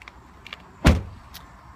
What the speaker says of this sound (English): and the door opens.